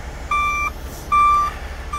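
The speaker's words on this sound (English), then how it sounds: "The alarm went off." Overfill protection alarm on a fuel tanker sounds two loud, steady electronic beeps, each lasting under half a second with a short gap between, over a low background hum.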